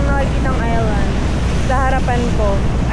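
Strong wind buffets the microphone on a boat crossing the sea between islands, a constant roaring rush with water noise beneath and a person talking over it.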